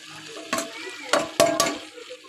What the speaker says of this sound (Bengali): এবার আমি এঁচোড় চিংড়ি আলু এটা ঢেলে দেবো।